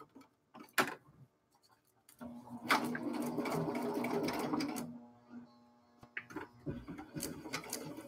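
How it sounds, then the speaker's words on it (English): A sewing machine stitches through paper while making an ornament, a close, cranky mechanical whir that runs for a couple of seconds between light handling taps and clicks. "I have a sewing machine that goes through paper."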